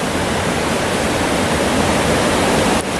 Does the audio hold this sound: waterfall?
yes